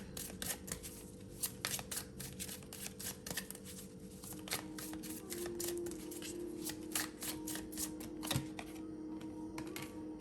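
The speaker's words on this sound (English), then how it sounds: "I'm gonna pull 3 more cards and let's see." Tarot cards being pulled and shuffled from a deck, heard as a close, quiet, continuous run of rapid papery flicks and snaps over a steady low hum, with no talking.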